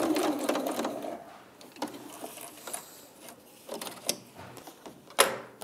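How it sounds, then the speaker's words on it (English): A sewing machine runs a straight stitch down the side seam of a teddy bear outfit, with a steady whirring burst at the start, then lighter clicks and short stitching runs close by. "we're using a straight stitch just to stitch all the way down the side of that seam"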